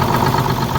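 A pump engine idles steadily and close, a loud continuous low drone with even mid-range hum and no pauses.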